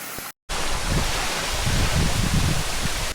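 Waterfall in Tujunga canyon, California, after rainstorms, roaring as a steady, dense broadband rush of falling water, loud and close, with a brief dropout near the start and no voices.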